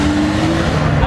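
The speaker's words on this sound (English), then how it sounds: "Exhaust. That's what it sounds like." Car exhaust roars loud and close in a short burst at a car meet, with a voice briefly under the engine noise.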